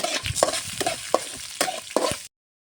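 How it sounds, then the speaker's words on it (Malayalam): Urad dal and lentils frying in hot oil in a pan while being stirred: a close, steady sizzle with scraping stir strokes and crackling pops, ending abruptly. "കുറച്ച് ഉഴുന്നും പരിപ്പിടാണ് അതൊന്ന് മെരിയട്ടെ"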